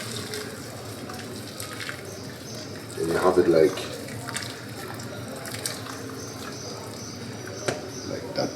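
Water running from a tap into a pot of basmati rice, a steady faucet rush with a brief louder gush of pouring near the middle, heard close under a person talking.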